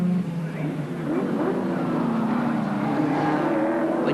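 Touring race cars roar past side by side at Amaroo Park in 1989, engines droning and shifting pitch at a distance, with a commentator talking over the racing.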